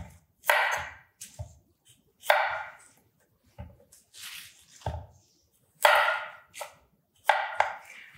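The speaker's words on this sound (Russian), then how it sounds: "Для начала удалим ботву" A kitchen knife chops the leafy tops and tips off radishes on a cutting board, a sequence of separate sharp, fairly quiet cuts with short pauses between them.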